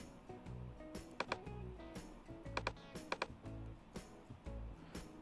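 Keystrokes on a computer keyboard as a date is entered, scattered bursts of quick taps and a few sharper clicks over a low background hum, with no voices.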